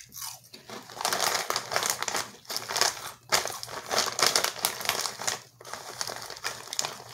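Rap Snacks heat-flavored potato chips being eaten, with steady crunchy crinkling and crushing bites close to the mic, the chewing continuing almost without pause and broken by a few short gaps.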